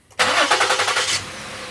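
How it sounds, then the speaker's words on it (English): A 2009 Ford Flex engine with a cylinder misfire cranks and catches, settling into a rough, pulsing idle that fades slightly after a second; close and fairly loud. "Let's go ahead and start the engine."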